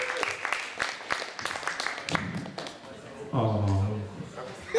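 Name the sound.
audience applause for contestants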